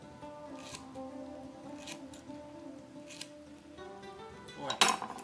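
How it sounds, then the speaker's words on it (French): A knife cuts small slices of melon on a board: a few faint, crisp slicing taps spaced apart in a quiet kitchen, ending with a brighter clink. "nous allons couper de petites tranches"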